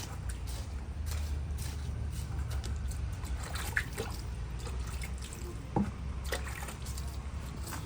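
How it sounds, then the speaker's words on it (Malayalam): Homemade fertilizer mix being watered in soil beneath a sapota tree, a continuous soft trickle and dripping of water with a few sharper drops, steady and close, with no voices. "ഇനി നനച്ചിട്ട് നമ്മളൊന്ന് നന്നായിട്ട് മിക്സ് ചെയ്ത് കൊടുക്കുക"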